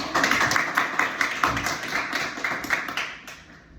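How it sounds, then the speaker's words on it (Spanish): An audience at a Bible study breaks into clapping, the claps sharp and uneven at first, then thinning out and fading toward the end, with no talk over them. "Un aplauso para Él."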